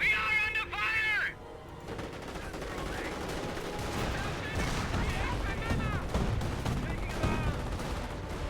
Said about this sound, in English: Engaging! Sharpshooter, fight cover! We are under fire!